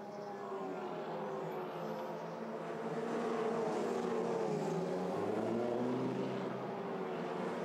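A TCR touring race car rolls into the pits during qualifying at Oschersleben, its engine a loud, sustained drone that shifts pitch downward as it slows, with no speech over it.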